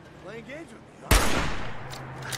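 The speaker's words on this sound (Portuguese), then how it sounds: "Errei o tiro." A single sharp gunshot fired in the Fallout 4 video game, played on Xbox Series S, cracks loudly midway and leaves a lingering rumbling tail over quiet game ambience.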